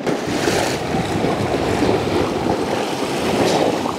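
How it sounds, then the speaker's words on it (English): Ocean waves wash and splash against the shore of a private beach in Malta, a continuous close surging hiss with gentle swells and light wind noise, no talking. "now we just wait for a wave to splash up"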